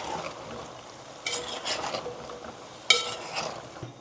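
Vegetable curry with ridge gourd being stirred in a pan, a few scraping, clinking strokes of a spoon against the metal pan with a faint sizzle beneath, close and moderately loud with no talk.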